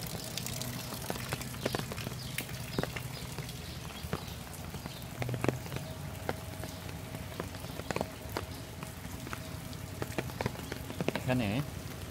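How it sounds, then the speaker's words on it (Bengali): Morning rain falls steadily in a village with livestock nearby, a soft continuous patter with scattered drips and taps, heard at a low level and without speech. "সুন্দর একটা বৃষ্টিপাত হচ্ছে এবং মানুষের এটা উপকারে আসবে"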